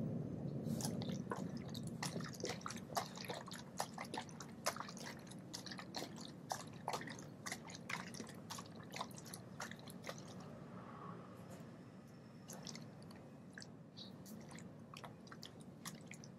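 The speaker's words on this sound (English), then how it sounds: "I am going to mix this." A bottle of Gyeongju Beopju Ssal makgeolli rice wine is swirled and mixed indoors, producing a continuous wet, sloshing churn with scattered clicks and squishy pops. The sound is close and steady and fades slightly toward the end, with no talking.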